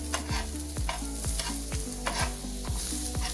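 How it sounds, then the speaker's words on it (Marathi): Ginger, garlic and spices sautéing in hot oil in a pan, a steady sizzle with regular stirring scrapes spaced about every half second, close and continuous with no talking. "हे पण यात तेलात घालून घ्यायचंय। आपल्याला हे मसाले थोडे थोडे परतायचे"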